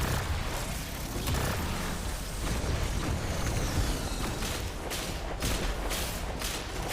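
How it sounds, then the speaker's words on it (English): Chains of explosions go off in the shooter game Destiny 2, a busy stretch of overlapping booms, pops and thuds at moderate loudness. "And just follow the trail of explosions."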